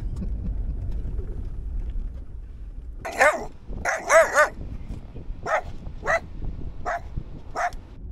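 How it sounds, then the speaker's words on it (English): A dog barks at cows outdoors, several sharp barks clustered together and then a few single yips spaced apart, heard over a steady low rumble that may be an idling vehicle. "Boomer's joy in life is barking at the cows."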